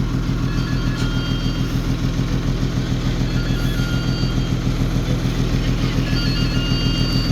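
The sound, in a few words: motorcycle engine running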